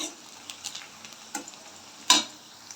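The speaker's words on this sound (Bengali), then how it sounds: "পেঁয়াজটা দেখো বেশ সুন্দর লাল লাল করে ভাজা হয়ে এসেছে" Sliced onions fried with salt until reddish brown in a pan and stirred: a soft steady sizzle broken by scattered scrapes of the utensil, with one sharper, louder scrape near the end and no voices.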